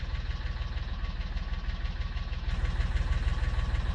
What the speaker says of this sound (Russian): И звук другой трактора